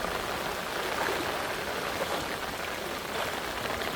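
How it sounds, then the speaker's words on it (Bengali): Heavy rain pours steadily at night over a marsh, a dense, even hiss of drops on water and surfaces that stays constant and close throughout with no other sounds standing out. "প্রচুর বৃষ্টি হচ্ছে আমরা রয়েছি বিলে"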